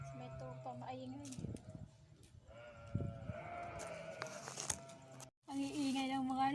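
Sheep and goats bleating outdoors at a rural home in Saudi Arabia, with repeated wavering calls close by and overlapping, while a person talks over and between them.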